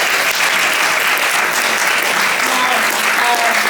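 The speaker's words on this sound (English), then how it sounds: "Those people applaud them." Loud, sustained applause from a crowd at a meeting, a dense steady wash of clapping that fills the whole stretch without a break.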